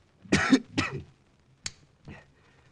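A person coughs two harsh times close by, then a short sharp cough and a softer throat-clearing follow after a pause.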